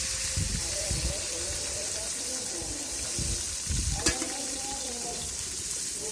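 Chopped onions hit hot oil alongside golden-browned garlic in a pan for an aloo gobi dish, giving a steady close sizzle broken by scraping stirs, with a brief voice speaking faintly partway through.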